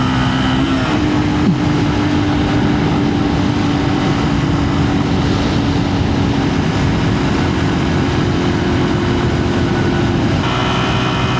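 A Yamaha TW200 motorcycle engine drones loudly and steadily at high revs while riding, with continuous engine and wind noise throughout and no voices.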